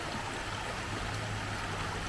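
A creek flows steadily beneath a sycamore in Front Royal, Virginia, giving a continuous close babble and rush of running water with no pauses and no one talking.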